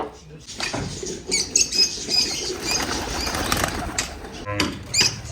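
Pigeon wings flap in noisy bursts close by as pigeons are let out of their loft, mixed with scattered fluttering and some background voices.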